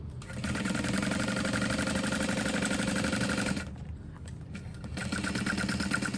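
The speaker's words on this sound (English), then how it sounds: "So I'm going to back stitch at the smaller piece of vinyl and then continue on" A sewing machine back stitching through clear vinyl for a tote bag runs in a steady, fast mechanical whir, pauses briefly with a few soft clicks, then starts up again, close and alone.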